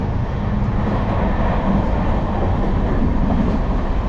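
Steady low rumble and rattle from inside a moving long-distance train carriage, a constant rolling drone with faint rhythmic clatter and no voices.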